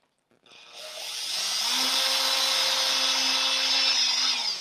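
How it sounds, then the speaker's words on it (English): A power drill with a 4mm bit bores a pilot hole through a bamboo bicycle frame tube, a steady whining buzz that rises after a brief start and holds close and loud for several seconds, then stops. "I'm going to drill through the marks"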